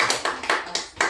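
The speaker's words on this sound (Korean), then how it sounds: "박수 한번 주세요." Applause from an audience at a company headquarters gathering, a short burst of loose, uneven clapping with several sharper claps standing out, fairly close and moderately loud, with no voices.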